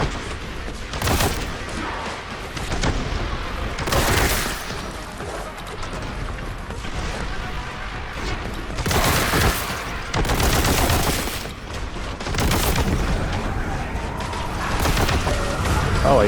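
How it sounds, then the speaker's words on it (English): A vortex grenade blast in the Warhammer 40000: Boltgun video game, heard amid repeated loud bursts of gunfire and booming explosions that come in waves, with a voice talking over parts of it. "Oh, I used that vortex grenade."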